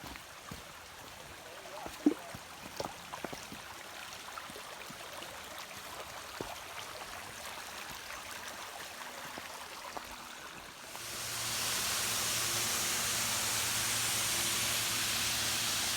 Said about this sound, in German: Jetzt ist da praktisch das Oberteil vom Wasserfall hinter mir